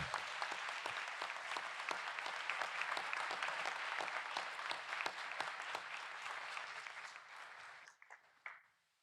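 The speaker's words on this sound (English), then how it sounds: "Please give them a round of applause." Audience at a city council meeting applauds a group of award-winning students, a steady, dense patter of clapping from a sizable crowd that holds for about eight seconds, then thins and fades out.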